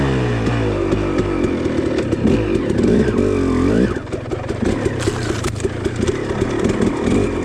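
Two-stroke dirt bike fitted with JD Jetting climbing an uphill trail at low RPM, a steady close buzzing engine drone with shifting pitch and rattly chassis noise throughout.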